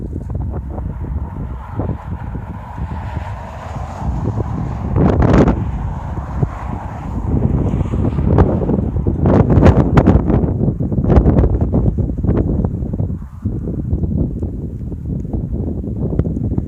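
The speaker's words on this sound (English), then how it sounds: "It's windy." Strong, gusty wind buffets the microphone at a desert BLM campsite in Utah, roaring loud and continuous with surging blasts, no talking.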